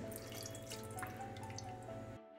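Soaked tamarind juice is poured into a kadai pan, giving a quiet, steady liquid trickle and splash that stops abruptly just before the end.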